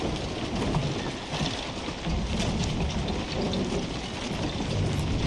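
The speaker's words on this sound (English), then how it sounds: "Cause I love a rainy night." Steady heavy rainfall with rolling thunder during a Mortal Kombat 1 game scene, a dense, constant hiss of rain pattering on surfaces with low rumbles beneath, filling the whole span, heard alone.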